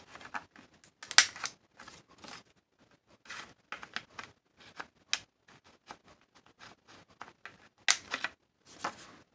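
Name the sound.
trimming card edges with a corner punch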